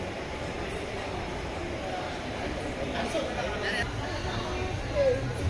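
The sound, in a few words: passenger train departing Mannargudi station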